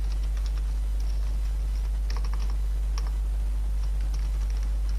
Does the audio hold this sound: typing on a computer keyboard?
yes